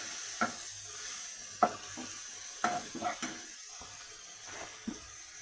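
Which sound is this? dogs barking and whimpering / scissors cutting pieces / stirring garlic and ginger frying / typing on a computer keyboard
stirring garlic and ginger frying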